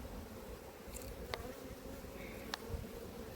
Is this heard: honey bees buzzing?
yes